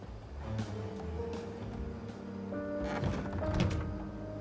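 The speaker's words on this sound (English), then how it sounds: "A wooden crate? I have to open it." A wooden crate being opened in an Agatha Christie mystery game gives a dull, hollow thunk with soft wooden creaks and scraping, fairly quiet over a low ambient hum.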